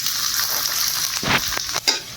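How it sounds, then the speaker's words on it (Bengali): Onions frying in hot oil in a wok, a loud steady sizzle close up with a few scraping stirs near the end. "পেঁয়াজটা হালকা করে বাদামি কালার করে ভেজে নিয়েছি"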